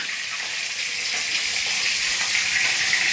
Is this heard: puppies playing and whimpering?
no